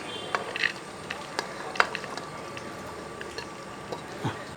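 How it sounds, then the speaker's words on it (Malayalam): Chopped vegetables tumble into a pressure cooker in a home kitchen, making scattered light clatters and soft thuds over a steady background hiss, some hits louder and closer than others. "ഈ അരിഞ്ഞ് വെച്ചിരിക്കുന്ന പച്ചക്കറി എല്ലാം കൂടെ അങ്ങോട്ട് ഇട്ട് കൊടുക്കുക"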